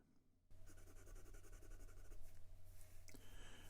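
Broad steel nib of a Ranga Chestnut acrylic fountain pen scratching across paper, a steady soft continuous writing scrape with faint feedback, close and alone.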